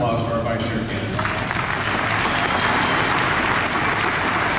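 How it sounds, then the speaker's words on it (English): Applause for the vice chair candidates at a Utah Republican Party organizing convention, dense clapping from a large crowd in a big hall that holds steady and loud, with a brief voice at the start. "Let's have one more round of applause for our vice chair candidates."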